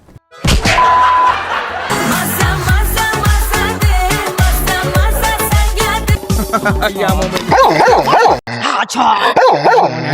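Loud, rapid barking from several dogs close by, overlapping yips and whimpers in quick bursts with little pause.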